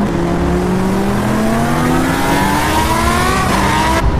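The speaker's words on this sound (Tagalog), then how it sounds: "Okay, start the engine." A car engine revs hard, a loud continuous roar with a rising pitch climbing steadily as it accelerates, close and dominant throughout.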